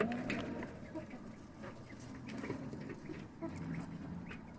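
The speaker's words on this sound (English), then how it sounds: "And now compare this to the quails." Quails calling faintly amid louder surrounding chickens, with scattered short calls over a steady background of fowl noise.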